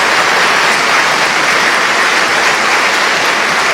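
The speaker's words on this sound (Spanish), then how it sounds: "Pues más fuerte ese aplauso" An audience applauds a speaker after a talk on public servants, a loud unbroken wash of clapping with no gaps.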